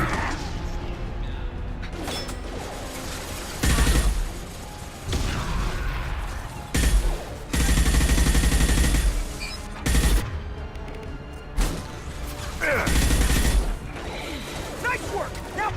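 Gunfire in the video game Mass Effect 2 comes in repeated bursts of booming shots and clanking impacts over a busy background, with voices speaking in between.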